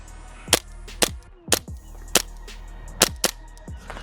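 G&G SMC-9 gas blowback airsoft carbine firing BBs outdoors, six sharp cracking shots spaced irregularly about half a second apart, each a loud snap with a quick decay, over faint background hum with no talking.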